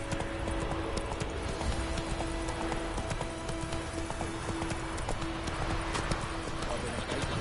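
Roach, Geralt's horse in The Witcher 3: Wild Hunt, gallops with a steady, fast clip-clop of hooves running throughout, loud and close, with a constant tonal background hum and occasional voice sounds beneath.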